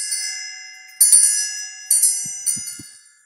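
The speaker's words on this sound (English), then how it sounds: "This is an elephant claw bell." An Asian elephant claw bell rings three times at uneven intervals, each clear metallic strike bright and shimmering before it rings down, with faint soft handling knocks between the later strikes.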